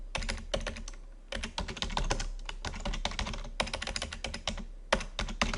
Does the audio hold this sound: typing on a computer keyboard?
yes